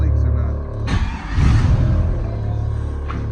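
An LS-swapped 1988 Monte Carlo SS V8 fires up for its first start, a loud, close burst as it catches, then settles into a deep, steady idle rumble.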